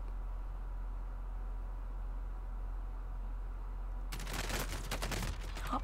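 Gunfire in the video game Call of Duty Warzone: a sudden burst of rapid shots cutting in after a steady low hum, close and fairly loud.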